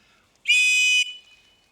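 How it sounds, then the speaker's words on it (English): A whistle built into a survival knife gives one short, shrill, piercing blast lasting about half a second, close and loud, then quiet. "a whistle. Could get you out of trouble, this."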